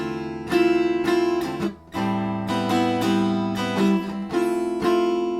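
Sustained guitar chords ring out together, strummed in a steady rhythm with a few accented restrikes, clear and close with no talking.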